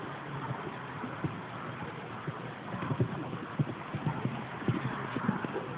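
Horse hooves clip-clop steadily on an arena surface during showjumping training, a fairly close, irregular run of muffled footfalls that grows a little louder partway through, with faint background murmur.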